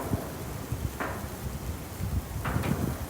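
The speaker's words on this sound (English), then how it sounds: "these winds are very high, you guys, right now" Strong outdoor wind buffets the microphone in gusty, rumbling bursts at a cookout where steak sizzles over a fire, moderately loud and unbroken, no talk.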